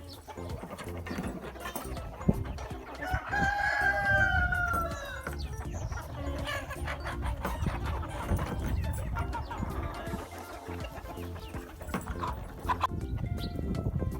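A rooster crows once near the start amid a noisy barnyard of clucking hens and shuffling movement as the birds are let out of the barn, with faint voices in the background.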